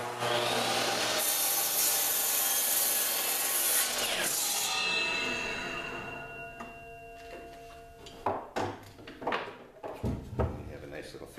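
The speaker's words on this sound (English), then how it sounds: "We'll just set the miter saw at 15 degrees." A miter saw set at 15 degrees cuts through a wooden board, a loud sustained whine over the first few seconds that fades and winds down, followed by scattered knocks and handling of wood nearby.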